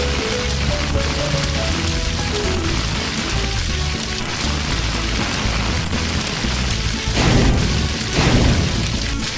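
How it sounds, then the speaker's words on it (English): A firefighting lance in a cartoon factory rescue game sprays water onto a fire as a loud, continuous hiss and rush, with two brief louder surges near the end and no speech. "Drag the firefighting lance to put out the fire."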